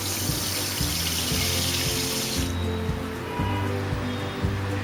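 Water for sugar syrup running into a pot for rasgulla, a steady splashing pour that stops partway, under a repeating low thumping rhythm.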